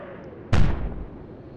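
A single heavy naval gun salvo booms in the Atlantic Fleet warship game, a sudden loud blast that rolls off into a fading rumble over a low background hum.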